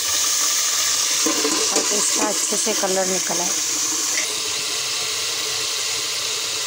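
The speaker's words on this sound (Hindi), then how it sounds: "अब मैं इसमें शामिल कर देती हूँ पानी" Water poured into a pan of browned onions sets off a loud, continuous hiss and sizzle that runs throughout, while someone talks over it briefly in the middle.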